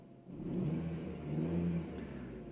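A 2005 facelift Honda Stream with a 1700 cc engine runs steadily at close range, giving a smooth, low idling hum with a slight rise in revs midway and no voices.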